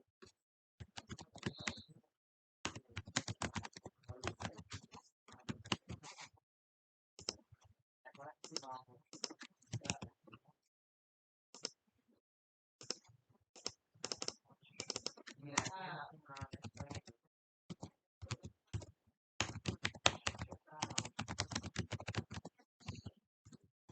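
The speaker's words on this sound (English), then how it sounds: "you can just type in your title. Here I'm going to add the title." Typing a title on a computer keyboard while building a PowerPoint slide, bursts of quick soft key clicks separated by pauses, with a person talking in between.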